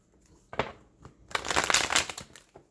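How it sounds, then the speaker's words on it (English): Tarot cards are shuffled by hand in a few quick riffling bursts, close and crisp, ending in a longer rustling run. "I'm going to shuffle one more time"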